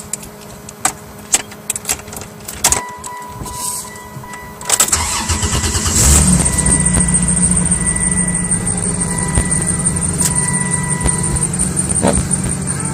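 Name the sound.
1995 Chrysler Intrepid 3.3 liter engine cold start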